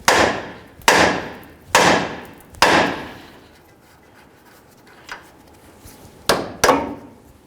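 Sharp hammer blows strike the steering knuckle to knock the outer tie rod end loose on a 1992-2000 Chevy Tahoe. Four loud, ringing metallic bonks land about a second apart, then after a pause a light tap and two more strikes close together.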